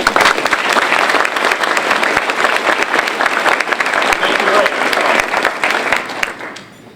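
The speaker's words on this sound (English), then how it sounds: "Let's give them a round of applause." Loud, dense applause from an audience at an annual meeting, sharp claps layered thickly for several seconds before tapering off at the close.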